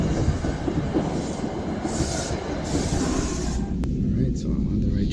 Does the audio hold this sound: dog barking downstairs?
no